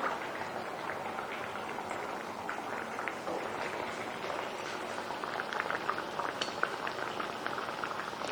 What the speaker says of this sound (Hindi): अब हम जो है वो कचौरी जो है वो फ्राई करते हैं आहिस्ता फ्लेम पर